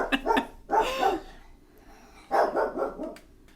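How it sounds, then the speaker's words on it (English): A dog barks in three short, close bursts separated by brief pauses, fairly loud against an otherwise quiet indoor room. "we've calmed down the dog"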